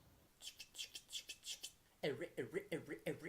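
A voice imitates record scratching with quick, rhythmic swishing bursts, first breathy and high, then lower and more throaty wiggles in a second pattern.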